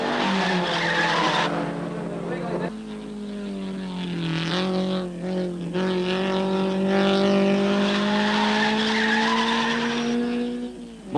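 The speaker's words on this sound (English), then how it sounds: "Alan Moffat's tyre finally lets go in Shell, and he nearly cleans up pit row as he comes to rest." A racing car's failing tyre skidding to a stop at a 1965 Sandown six-hour touring car race, a long loud squeal that slides downward in pitch, with engine noise beneath.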